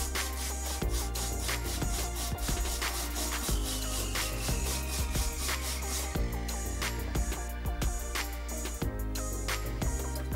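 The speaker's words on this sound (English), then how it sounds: "I clean the place of the cut with the help of a sandpaper." Rapid, steady rubbing and rasping of sandpaper against material, continuous and close, with a faint background hum.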